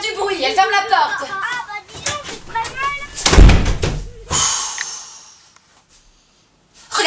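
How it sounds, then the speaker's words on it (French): A household door is shut with a sharp slam in the middle of the clip, one loud impact after a stretch of talking voices, then a quiet tail and a brief final knock-like sound. "elle ferme la porte"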